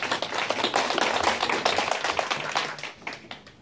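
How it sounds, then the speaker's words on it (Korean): Audience applause for event staff during an MOU signing and product presentation, a moderately loud burst of many hands clapping with some individually distinct claps, fading slightly near the end. "수고해 주시는 우리 스태프분들을 위해서 큰 박수 한번 부탁드리겠습니다."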